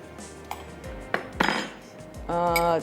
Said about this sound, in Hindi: तो ये हमने फ्राइंग पैन ले लिया